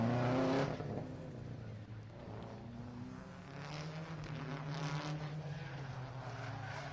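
A Honda Civic rally car sliding past on the Harlech stage: a loud engine roar that drops, then climbs again as the car revs through the slide, with the pitch sweeping as it passes nearby.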